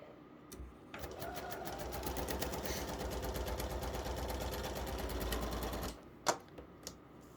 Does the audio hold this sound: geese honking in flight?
no